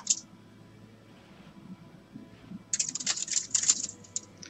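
Computer keyboard keys are pressed during Tomb Raider II gameplay, with a single quick tap at the start. After a quieter stretch, a dense burst of rapid, close clicks follows.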